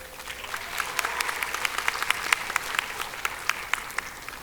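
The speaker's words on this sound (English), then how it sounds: "let's give ourselves a big round of applause" Graduates and guests applaud at a Swinburne Vietnam graduation ceremony, a spread of sharp individual claps over a softer crowd wash, fairly close and lively across the whole stretch.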